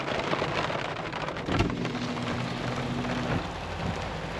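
A storm blowing in near the Grand Tetons brings steady, dense rainfall across the whole span, with a low rumble of thunder rolling in the middle, heard alone without voices.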